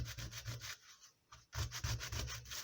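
A pastel chalk stick rubbed quickly on a small piece of sandpaper, close rhythmic scratchy strokes with a brief pause midway before the rubbing resumes.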